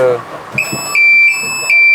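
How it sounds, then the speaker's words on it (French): Gentle electronic alarm clock aboard a Vendée Globe racing sailboat, giving a few soft high beeps that repeat at a steady rhythm alongside quiet cabin noise and a low background voice. "Voilà, ça c'est mon petit réveil."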